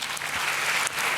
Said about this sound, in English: An applause to her.